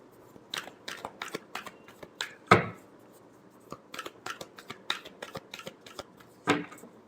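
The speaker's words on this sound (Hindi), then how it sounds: "last shuffle" Tarot cards being shuffled by hand, crisp quick riffles and taps in irregular bursts with two louder swishes, close and fairly quiet, no talk.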